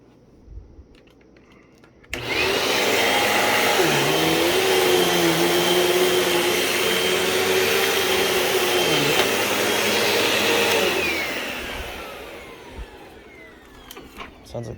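A Rubbermaid MH12 upright vacuum cleaner, with something stuck in its brush roll, switches on abruptly and roars steadily for several seconds, its pitch shifting slightly as it works, then winds down.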